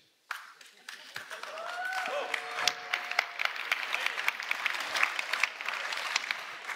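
An audience claps steadily through a live night-time world premiere of the 2024 Škoda Superb in Dolní Břecany near Prague; dense, sustained applause starts abruptly after a brief quiet moment and holds at an even level.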